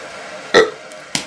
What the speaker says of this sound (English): Man's making me burp in the middle of that damn reaction